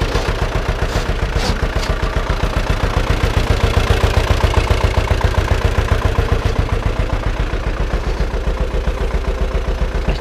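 An Ursus tractor engine runs steadily nearby, its diesel knock pulsing in a fast, even rhythm at constant loud level with no voices.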